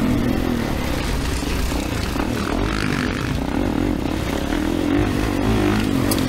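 A 2024 Kawasaki KX450 dirt bike runs on a motocross track, its engine droning loud and steady throughout with a rough, buzzing tone and some clattering, with no talk.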